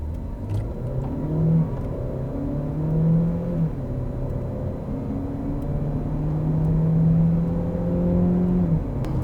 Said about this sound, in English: So we press the brake as well as the accelerator, wait for a couple of seconds, and then lift off.